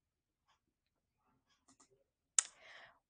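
A few soft computer mouse clicks, faint and scattered, followed by one sharper click and a brief rustle near the end.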